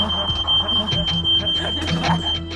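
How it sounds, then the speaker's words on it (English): Short, high-pitched electronic beeps repeat steadily under background kitchen noise, like a smoke alarm going off nearby. "The smoke alarm goes blasting out."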